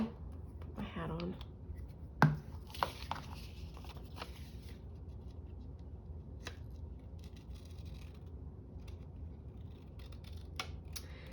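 Scissors cutting out paper, a series of close snips and crisp paper rustles, busiest at the start and then sparse, against a quiet room background.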